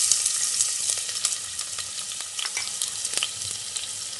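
Steady crackling sizzle of chopped onion frying in hot oil in a pressure cooker, with scattered pops and faint stirring, continuous throughout.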